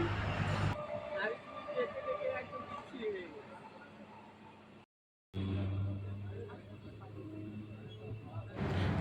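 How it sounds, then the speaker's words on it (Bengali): A train rumbles past on the lower line near Ballygunge station, a broad rolling roar heard from a train standing on the upper line, with voices talking over it and a brief dropout midway. "নিচের লাইন দিয়ে ট্রেন ছুটে চলে যাচ্ছে আর আমাদের ট্রেন উপরের লাইনে দাঁড়িয়ে আছে"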